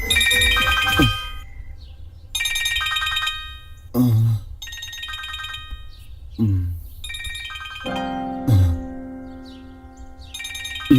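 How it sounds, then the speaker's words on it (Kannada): A phone ringtone plays in repeated melodic bursts with short gaps, loud and close, in a Kannada horror film scene, with no talking over it. "ಯಾಕೆ ಫೋನ್ ಮಾಡ್ತಾವನೆ ಏನೋ ವಿಷಯ ಐತೆ"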